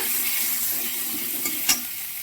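Turmeric and green chili paste going into leftover hot oil in a pan for a rohu fish curry, heard as a steady broadband hiss of sizzling oil, with a soft scrape or two near the end, and no speech.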